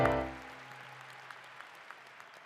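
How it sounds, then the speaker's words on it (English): Applause from the audience at a baccalaureate commencement ceremony, thin scattered claps following a fading low tone, faint and sparse throughout. "Can we give them another round of applause again,"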